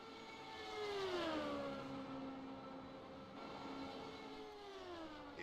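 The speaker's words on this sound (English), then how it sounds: "This is the 2011 Honda-powered Dallara IndyCar." A 2011 Honda-powered Dallara IndyCar engine, about 600 horsepower, sounds faint and distant, a high whining drone whose pitch sweeps down as the car passes, then rises and falls again more softly.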